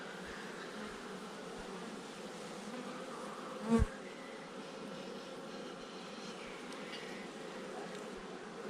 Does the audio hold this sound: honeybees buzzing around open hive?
yes